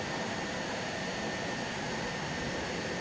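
The M-346 jet trainer's engine in Microsoft Flight Simulator, a steady, even roar with a high whine running through it, heard alone at a constant moderate level.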